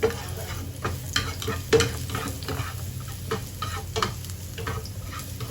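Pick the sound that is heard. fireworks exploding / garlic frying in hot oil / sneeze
garlic frying in hot oil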